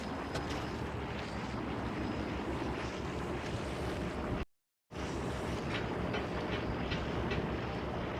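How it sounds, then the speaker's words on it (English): A westbound GO commuter train rolls into a Toronto station on a chilly morning, a steady broad rumble and rush that holds throughout, briefly cut by a short silent gap. "a westbound GO train rolling in"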